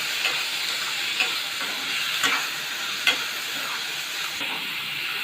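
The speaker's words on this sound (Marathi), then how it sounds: "आता याच्यामध्ये एक टॉमॅटो टाकणार आहे बारीक चिरलेला तो पण चांगला परतून घेणार आहे" Finely chopped tomato sautéing with well-browned onion in a pan, giving a steady broadband sizzle with a few sharp stirring scrapes and clicks spaced through it, close and even, with no voices.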